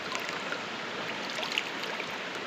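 Calm water in a river where people are swimming flows with a soft, steady hiss and faint trickling, quiet and continuous.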